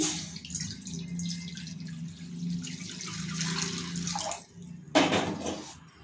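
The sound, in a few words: water being poured into a kadai (wok)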